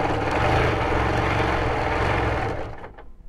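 A BERNINA Q Series sit-down quilting machine stitches at a steady, fast, continuous mechanical hum with dense rhythmic buzz, loud and close, tapering off in the last half second.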